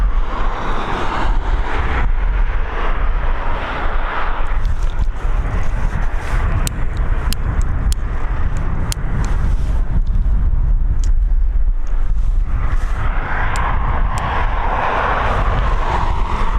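An aircraft departs Dublin Airport, its engine roar steady and loud throughout, with wind buffeting the microphone and the rumble swelling toward the end as it climbs away.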